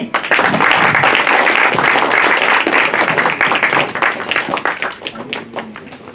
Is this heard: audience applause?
yes